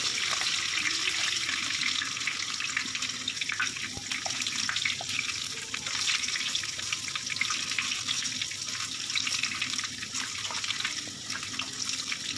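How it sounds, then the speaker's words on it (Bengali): Large potato chunks fry in hot oil for Bengali-style chicken kosha, giving a loud, continuous sizzling hiss that holds steady throughout with no pauses. "দেখো আলুগুলোকে ভেজে নিচ্ছি। আলুগুলো একটু ভালো করে ভাজবে"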